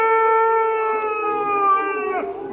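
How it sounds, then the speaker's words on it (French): A lone wolf howls in a long, sustained, wavering cry with strong harmonics, loud and close, sliding down and breaking off near the end. "Un loup!"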